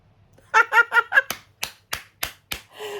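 A short run of sharp, crisp hand claps, about five evenly spaced smacks close by, after a brief voiced cheer-like sound.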